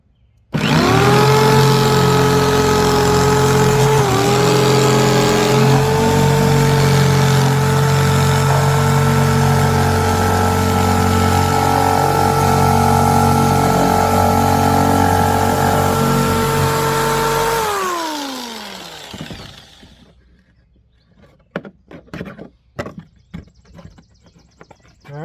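A Sawzall reciprocating saw cuts an access hole in a kayak, a loud, steady buzzing motor whine running nonstop for about seventeen seconds before winding down, followed by scattered handling knocks and clatter.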